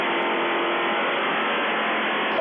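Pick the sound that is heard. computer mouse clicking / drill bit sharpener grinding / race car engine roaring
race car engine roaring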